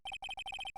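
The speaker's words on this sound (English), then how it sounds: "I heard a phone ring just now." A synthesized ringtone from the Phoenix Wright: Ace Attorney video game trills in rapid pulsing bursts, a short electronic warble repeated several times in quick succession, clear and alone.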